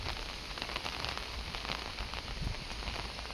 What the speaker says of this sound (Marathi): हे बघा पाऊस किती चालू आहे